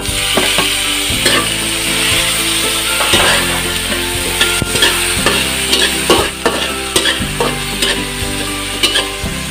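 Tomatoes sizzle in a hot pan with onion and bitter melon, stirred continually, giving a loud close frying hiss broken by repeated scraping and clatter of the utensil, with no talk.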